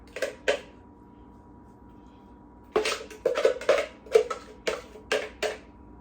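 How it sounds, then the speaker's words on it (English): Chopped onions spooned from a chopper into a soup pot for taco soup, heard as a quiet stretch and then a run of sharp clinks and scrapes of spoon against container. "take this out and spoon the onions over in there."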